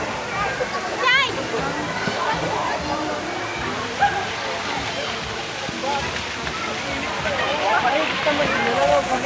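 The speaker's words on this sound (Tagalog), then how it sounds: "Ang lakas ng tubig mga idol." Strong rushing water roars steadily through a swimming spot, a broad dense wash with splashing, while people talk and call out over it throughout.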